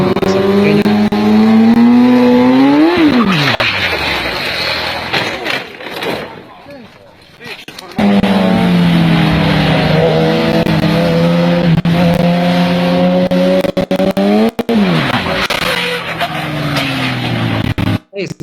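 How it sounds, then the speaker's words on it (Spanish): A small motorcycle rides a race track, its engine whining and rising and falling in pitch across two loud passes with a brief lull between, as someone talks over it. "esta moto chiquitita, no tiene una gran masa inercial"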